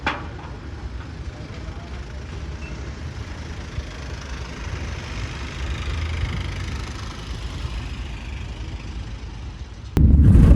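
A motorhome's engine drones low and steady from inside the cabin while driving away from a cigar factory in Nicaragua, a constant mid-level rumble that swells louder near the end.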